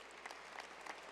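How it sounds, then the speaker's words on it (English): Brief, faint applause from a crowd at a football foundation awards dinner for a perseverance award, soft and steady clapping for about a second. "Round of applause for the Perseverance Award."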